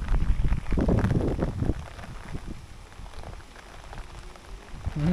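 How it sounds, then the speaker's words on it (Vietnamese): Rain falls on rural rice fields in Vietnam during the rainy season, a broad hiss with heavier rumbling gusts at the start that soften into a steadier wash, heard outdoors with no talk. "mình sẽ quay cảnh mưa cho các bạn xem nha"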